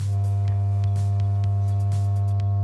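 Steady low sine-wave tones hum loudly and continuously, with faint clicks ticking over them.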